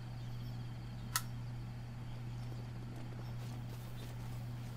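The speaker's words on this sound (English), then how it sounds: "There's horses here." Horse hooves clip-clop softly in Zelda: Breath of the Wild, a faint game sound under a steady hum, with one sharp brief click near the middle.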